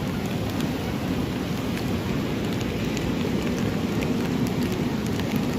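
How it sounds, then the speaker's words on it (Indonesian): Heavy rain pours down steadily during a flash flood in Solok, West Sumatra, a dense unbroken wash of hiss and patter with no talk. "Karena curah hujan masih berlangsung, masyarakat tetap waspada"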